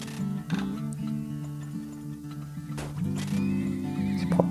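Neighing horses and clopping hooves from the video game Turmoil ring out over a continuous musical backdrop, with whinnies and hoofbeats repeating at a moderate, fairly close level.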